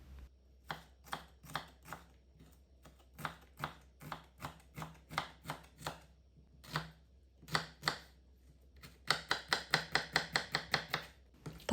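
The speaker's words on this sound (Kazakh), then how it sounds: "Пиязды кішкентай кубик етіп тураймыз." A knife chops onion into small cubes on a cutting board for a quick chicken fillet dish, making close, crisp strikes in an uneven rhythm that speed up into a fast, steady burst near the end, with no talking.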